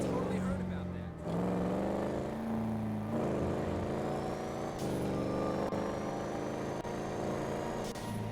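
The Fugitive car's engine in GTA Online hums with a steady, tonal drone that shifts pitch as it revs and settles, continuous and fairly loud throughout.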